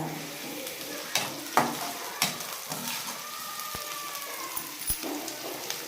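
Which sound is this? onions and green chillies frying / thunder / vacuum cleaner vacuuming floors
onions and green chillies frying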